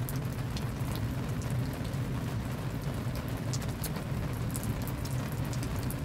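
Steady rain falls and patters on surfaces outdoors, a dense, even hiss with scattered drips, constant and fairly loud with no one talking.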